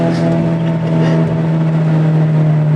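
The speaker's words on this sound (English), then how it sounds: "Intake screaming." A Chevrolet Cobalt SS engine drones loudly and steadily with a strong low hum and roaring intake, holding constant throughout.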